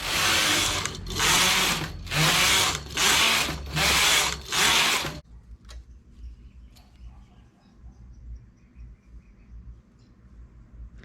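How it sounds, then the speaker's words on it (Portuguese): Knitting machine running plain stitch for a sweater, its carriage making five loud whirring passes in a row, then falling quiet to faint clicks and handling noise. "Então, só tecendo em malha"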